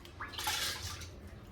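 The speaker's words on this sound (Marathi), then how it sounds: "मी सगळे असे निथळून गहू पाण्यात टाकते आहे भिजण्यासाठी" Drained wheat grains tip into a container of water for soaking, a brief close splash and gurgling pour that swells and then fades, with no speech over it.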